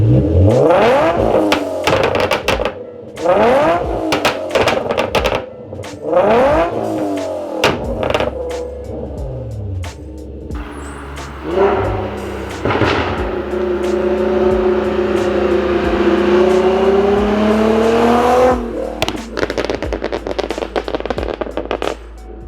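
An Infiniti G37 sedan on a re-tune with a flame map revs its exhaust in sharp repeated blips, crackling pops and bangs between throttle stabs, then holds a long loud rising rev before more popping, close and alone.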